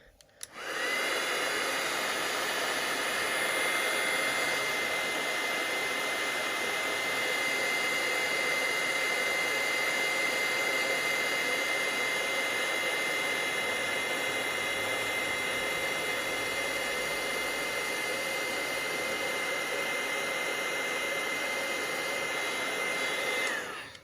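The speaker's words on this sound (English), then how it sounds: "We're going to take the heat tool and just heat this up." An embossing heat tool heats embossing powder on a Stampin' Up card project, giving a steady, loud, close-up hair-dryer-like whoosh of blowing air with a whining motor tone that runs continuously without pause, with no voices heard.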